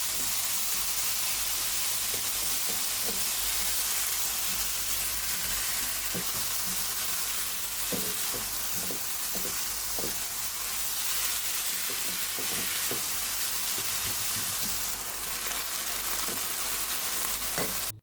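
Minced meat sizzles loudly in a hot pan for a samosa filling, a continuous dense frying hiss broken by repeated scraping knocks as it is stirred, with nobody talking.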